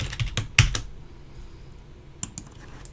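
Quick keystrokes on a computer keyboard as a password is entered, a short cluster of sharp clicks at the start, then a pause and a few more taps near the end, close and clear.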